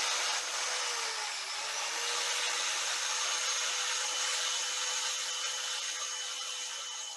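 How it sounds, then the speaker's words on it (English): Steady, even hiss and whine of a power sander run against the end of a wood turning, held for several seconds without pause or voices. "I'm going to take my power sander I'm just gonna hit the end of that just a little bit."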